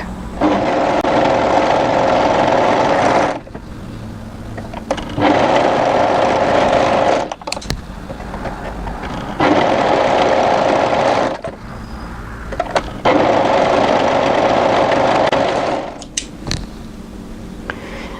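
An overlocker trims frayed threads from a tee dress's fabric edge in several loud, steady runs, each a few seconds long, separated by short pauses.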